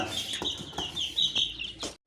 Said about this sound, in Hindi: ये देखिए, ये ब्लैक मुर्गी है और ये वाइट ब्लैक ये मुर्गा है। ये असील हैं दोनों।